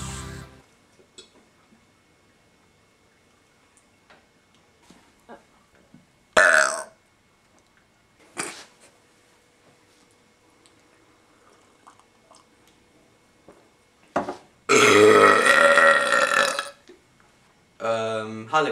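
Loud burps after drinking soda come in separate bursts during a burping contest: a couple of short ones early on, then a long, heavy belch followed by a final shorter one, with quiet pauses between.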